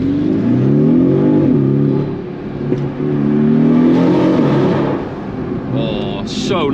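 A Porsche 718 Cayman's four-cylinder engine revs hard, its loud, rising and falling tone running throughout, dipping briefly midway before climbing again, with a faint higher whine near the end.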